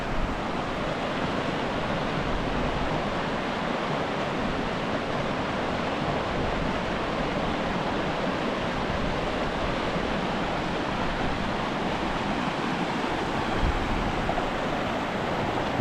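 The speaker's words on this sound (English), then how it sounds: "because of this rushing water, we have a quiet place." Rushing water near the old Leavick ghost town in Colorado roars as a loud, constant broadband wash, close and unbroken throughout, with some wind buffeting and no talk.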